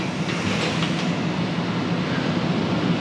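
A Japanese local train pulls out of the station on the Osaka to Hiroshima route, heard from inside as a steady, fairly loud rumble of wheels and car noise with no talking.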